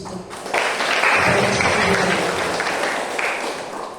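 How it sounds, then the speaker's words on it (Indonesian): Audience applause at a student organisation inauguration ceremony for a PMKRI branch, a dense, steady crowd clapping that swells in quickly and holds loud for several seconds before easing slightly. "Kita berikan aplaus untuk"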